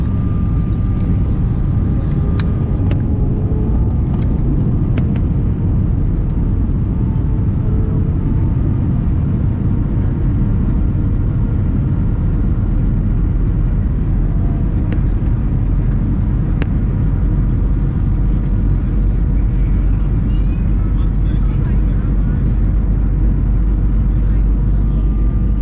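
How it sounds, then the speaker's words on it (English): A United Nigeria Airlines airliner cabin fills with a loud, steady broadband rumble as the plane comes in to land at Owerri, with faint clicks over the drone. "So we are just very, very close landing in Owerri."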